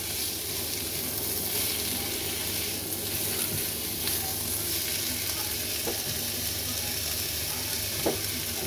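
Bitter gourd and roast pork (lechon) sizzle steadily in a pan, with faint scrapes and taps of stirring under the constant frying hiss.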